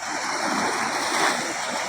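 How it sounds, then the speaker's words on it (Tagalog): Small waves lap steadily on a river, a continuous soft wash of moving water, close and fairly even in level, with no clear speech. "medyo maliit na po yung alon dito sa may ilog eh"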